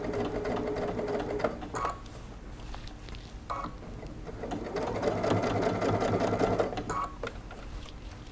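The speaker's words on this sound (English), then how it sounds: "we're going to go ahead and top stitch all the way around the outside" A sewing machine top stitches around the outside edge of a bucket hat, running in close, rapid bursts of mechanical stitching with short pauses and clicks between runs.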